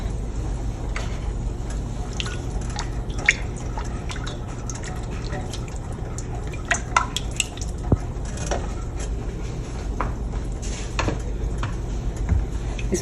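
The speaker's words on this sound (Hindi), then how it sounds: "अब इसको अच्छी तरह हम भून लेते हैं" Black beans and rice sizzle and get stirred in a cooking pot, with steady frying hiss, wet squishing and occasional clinks of a spoon against metal throughout.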